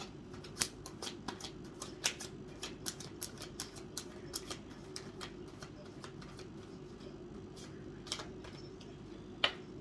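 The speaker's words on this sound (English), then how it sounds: "One more shuffle." Tarot cards are shuffled in quick riffling bursts, sharp crisp flicks snapping out over a quiet background.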